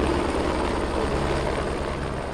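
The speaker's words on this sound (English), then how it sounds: "He's watching a tour land before stepping away from the noise and into an office on the heliport" A tour helicopter landing at a city heliport, its engine and rotor noise a loud, steady broadband roar that fills the whole clip up close, with no pause or change in level.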